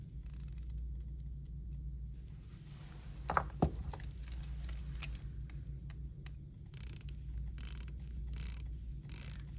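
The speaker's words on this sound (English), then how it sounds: "I guess we'll take a quick listen to bezel action." Rotating dive bezels on Seiko SJE093 and SPB143 watches are turned close up, producing crisp runs of small ratcheting clicks, some in quick bursts, over a steady low background hum.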